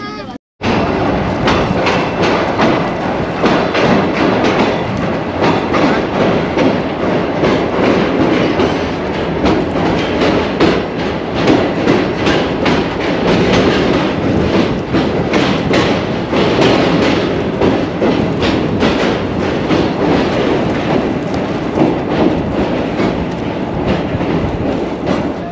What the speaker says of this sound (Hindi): ड्रिक कॉलोनी जंक्शन से अभी गुजरने वाली है ट्रेन